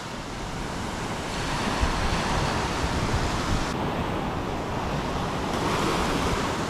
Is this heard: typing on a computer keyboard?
no